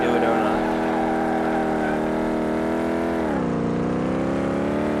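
A car in Car Mechanic Simulator 2018 spins donuts, its engine holding a steady loud drone with layered harmonics that dips in pitch near the end, with someone talking over it.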